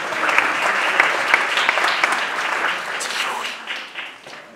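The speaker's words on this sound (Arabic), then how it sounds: "بغيتكم تصفقوا بحراره على العضو سميتها شيماء إدريسي" Warm, sustained applause from an audience at a Fez photography contest award ceremony for the second-place winner, dense clapping that holds steady then tapers off toward the end.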